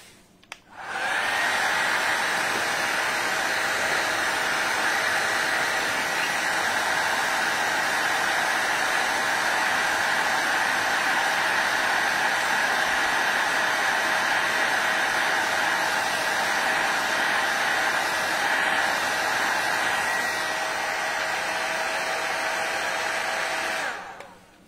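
A heat gun blows hot air onto a flexible moulding while a tissue box is being revamped, a steady loud roaring whoosh that runs unbroken for over twenty seconds before cutting off, with no talking over it.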